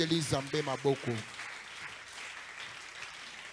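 A church congregation breaks into applause after a short spoken call from the front, the clapping steady and moderately loud, spread through the room for a few seconds.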